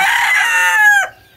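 A rooster crows once, loud and close, a drawn-out call that rises and then cuts off sharply near the end, with no talk around it.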